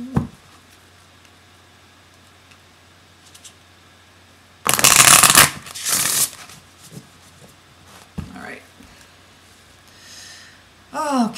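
Oracle cards being shuffled by hand, a loud riffling burst followed by shorter shuffles and soft card handling, close up with quiet pauses between.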